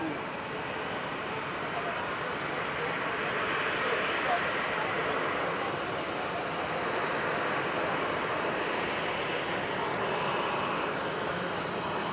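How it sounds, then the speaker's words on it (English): A KLM Boeing 737 starts up its engines at Amsterdam airport, a steady, moderate jet rush with broad hissing texture that stays even throughout, alongside general apron ambience. "While this KLM 737 is starting up."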